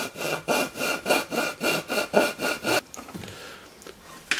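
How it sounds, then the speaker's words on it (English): A hand file rasps back and forth on the tapered ends of a wooden mortise in about ten quick, even strokes, close and clear, then stops and leaves faint handling noise. "And I'll just use a file."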